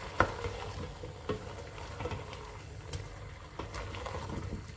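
Ingredients for harira stirred and frying in a pot, a faint sizzle broken by occasional scraping knocks of the spoon, quiet and steady without talk.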